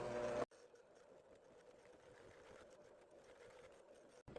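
An electric stand mixer runs at low speed through stiff spice bar dough, a steady moderate motor whir with a faint labored churn that holds for several seconds between brief cuts at start and end.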